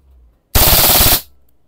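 A budget gun with a grip extender and a 30-round magazine fires one loud, close burst on full auto, lasting about half a second, with no talking.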